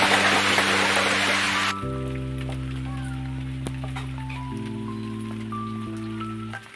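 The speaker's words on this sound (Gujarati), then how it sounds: "ધીમો ધીમો વરસાદ ચાલુ છે" Steady hiss of light rain at first, fading behind sustained droning musical tones that continue throughout.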